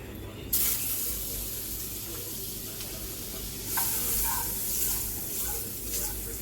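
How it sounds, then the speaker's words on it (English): Butter dropped into a pot of hot oil, the start of a sweet and sour sauce, hisses up in a sudden close burst, then settles into a steady crackling sizzle with a few louder flare-ups. "So I have a pot here that is hot with some oil. I'm going to add some butter."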